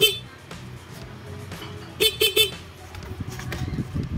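A motorcycle horn beeps in three short bursts amid workshop noise, with a few clicks and faint background talk.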